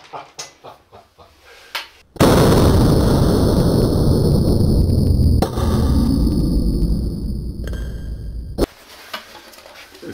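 Blow gun firing a blank cartridge as a loud, close hissing blast that lasts several seconds after a few sharp clicks, ending with an abrupt cutoff.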